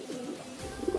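Large racing pigeons cooing close by in a loft, a steady low murmuring coo running through the whole second, with two brief louder coo notes near the end.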